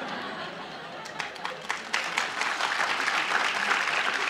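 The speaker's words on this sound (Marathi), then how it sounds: "MBSच्या मुला मुलींना टाळ्या वाजवता येतात" Students in a Pune senior college audience start clapping: scattered claps at first, quickly swelling into full, steady applause from a large crowd, with some murmuring and laughter mixed in.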